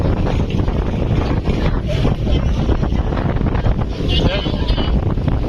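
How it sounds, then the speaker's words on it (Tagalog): Strong wind buffets the microphone in heavy, roaring gusts, a continuous rumbling rush with no pauses, loud and close. "Ang hangin po ay nararamdaman po natin ay meron pong gustiness"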